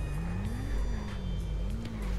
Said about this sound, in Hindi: इसकी थोड़ी इंजन की आवाज़ थोड़ी अच्छी है,